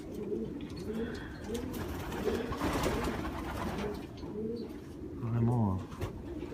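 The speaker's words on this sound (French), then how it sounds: "Il y a des pigeons magnifiques." Pigeons coo in repeated low, rolling phrases at a breeding station, with a louder, close coo near the end over steady background murmur and faint talk.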